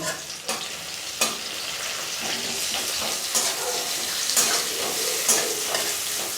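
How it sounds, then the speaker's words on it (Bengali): Chopped onion frying in a pan over medium flame for sujir upma, a steady close sizzle with occasional stirring clicks and scrapes running throughout. "পেঁয়াজটা খুব বেশি ভাজা যাবে না, হালকা লাল হওয়া অবধি ভাজতে হবে।"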